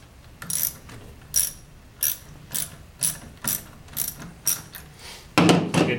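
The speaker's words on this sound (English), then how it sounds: "I'm holding this fairly snug, and I start tightening it. I'm using just a regular socket for this." A regular socket on a ratchet wrench tightens a bolt in repeated short clicking strokes, eight bursts in steady rhythm, close and clear with no talking.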